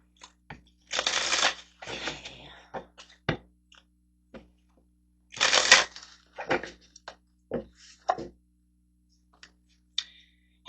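Tarot cards are riffled and shuffled by hand, two brisk papery bursts of about a second each separated by soft taps, clicks and quiet handling noises.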